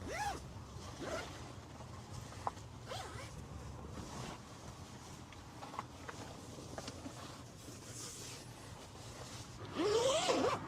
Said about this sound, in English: luckily it zips down 2 sides